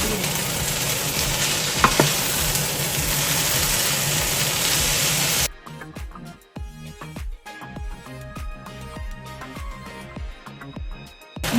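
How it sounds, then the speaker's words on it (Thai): Pink rice noodles being stir-fried with garlic chives and bean sprouts in a wok: continuous loud sizzling, then a sudden cut to quieter, irregular scraping and tossing strokes of the spatula against the pan. "ใส่กุยช่าย แล้วก็ผัดต่อไป"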